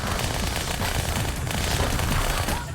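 Dense rapid gunfire from the video game Halo 2 rattles continuously and loudly in a sustained automatic burst, with no voices over it.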